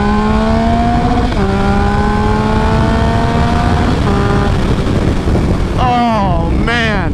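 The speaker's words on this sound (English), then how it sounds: "What a crazy sounding bike." A Triumph Speed Triple 1050 motorcycle engine howls loudly while it is ridden, its pitch climbing through each gear and dipping at every shift, with wind buffeting the microphone.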